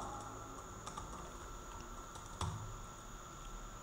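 Keys on a computer keyboard click a few times, quiet and sparse, as a Ctrl+S shortcut is pressed over a faint steady room hum.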